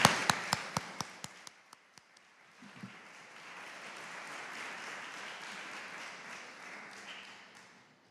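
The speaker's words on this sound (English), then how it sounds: "Please join me in applauding our artists and speakers." An audience applauds the artists and speakers at a lecture, beginning with a few sharp separate claps that grow into a steady, moderately loud round of clapping that fades near the end.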